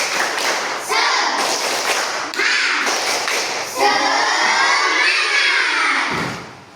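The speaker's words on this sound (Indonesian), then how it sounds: "kita tepuk tangan semangat" A group of second-grade schoolchildren clap together in rhythmic bursts, then shout in unison, loud and close.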